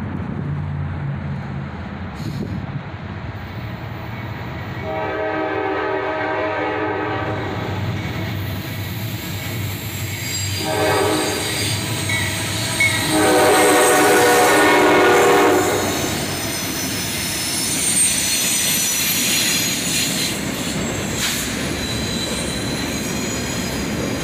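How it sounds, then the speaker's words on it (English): A southbound CSX manifest freight led by seven locomotives, including SD40-2 units and a Norfolk Southern GP33 with a slug, rumbling past at close range at sunrise with loud engine drone, horn blasts and rolling wheel noise. "Check it out, 7 locomotives on this southbound manifest."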